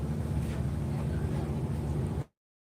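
A river launch on an Eid outing gives a steady low engine rumble mixed with wind buffeting on the microphone, holding evenly for about two seconds before cutting off abruptly.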